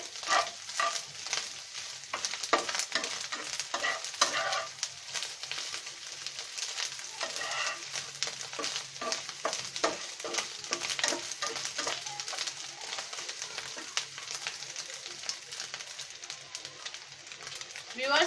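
Rohu fish roe frying in a pan, a steady broadband sizzle with frequent clicks and stirring scrapes, with a voice talking over it throughout.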